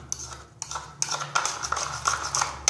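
Homemade slime being stirred in a bowl, made without colouring, with scraping, clinking strokes of a utensil against the bowl, irregular and close, over a faint low hum.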